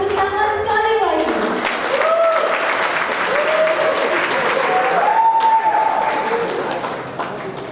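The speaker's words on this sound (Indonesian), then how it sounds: "Mari berikan tepuk tangan sekali lagi" Audience applause at a performing arts festival, sustained clapping from a crowd with music tones and a voice sounding over it, continuing for several seconds.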